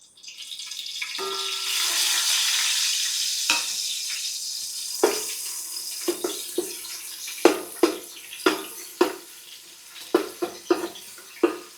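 Onions frying in oil in a home kitchen pan for egg biryani, a steady close sizzle with scattered sharp crackles and pops that grow more frequent toward the end, no voices.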